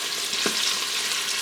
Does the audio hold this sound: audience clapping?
no